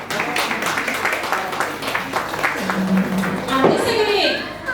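Audience applause at a Magar community event, a continuous patter of many hands clapping at moderate loudness, with voices talking over it and a brief tonal sound near the end.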